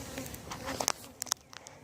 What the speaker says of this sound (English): all the bees have settled down